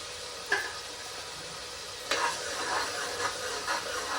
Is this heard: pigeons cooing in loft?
no